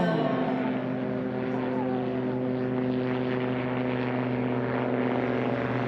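A STOL drag race airplane with a sidewinder engine holds a steady, loud propeller drone, with talk running over it the whole time.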